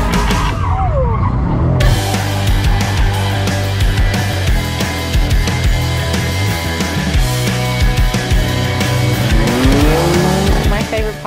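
A Mercedes-Benz driven hard around Laguna Seca Raceway: a loud, close engine roaring and revving continuously, with tires squealing and skidding through corners as it accelerates.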